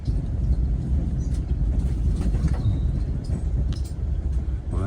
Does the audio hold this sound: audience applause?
no